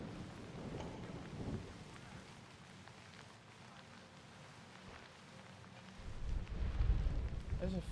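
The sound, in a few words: rain and thunder in Assassin's Creed Odyssey video game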